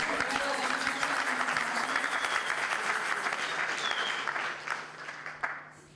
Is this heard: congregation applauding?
yes